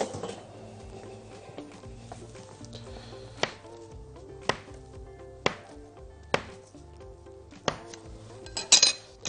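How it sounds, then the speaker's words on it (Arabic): A knife cuts date-filled maamoul cookie dough on a cutting board in a kitchen, seven or eight sharp chops spaced about a second apart over low background hum, with a cluster of clinks at the end. "نجيب عندي السكينه ونبدا ان احنا نقطع على السكينه او مقطع"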